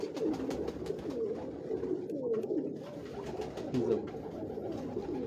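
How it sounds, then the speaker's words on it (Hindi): Pigeons cooing on a Lahore rooftop, a distinctive breed kept since the late 1970s, with soft overlapping rolling coos running steadily throughout at moderate level. "ये डिफरेंट कबूतर है जी ये आप देखें।"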